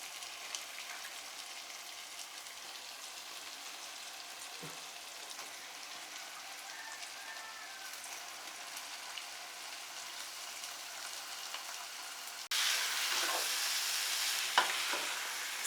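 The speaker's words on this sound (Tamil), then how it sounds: "இப்போ நம்ம இதில் எடுத்து வச்சிருக்கிற சிக்கன் சேர்த்துக்கலாம்" Chicken pieces frying with onions and tomatoes in a Tamil chicken masala: a steady, soft sizzle runs throughout with faint stirring scrapes, growing slightly louder near the end, with no voices.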